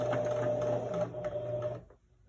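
A sewing machine stitching across a homemade fabric face mask with a removable filter, running with a steady whirring hum close by before stopping abruptly near the end.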